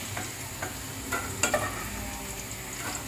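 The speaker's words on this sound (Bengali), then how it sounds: "বিনস দিয়ে আমি বিনসটা ভেজে নিচ্ছি" Green beans fry in a pan for fried rice, a faint, steady sizzle punctuated by a few soft clicks and scrapes of stirring, heard quietly with no voices.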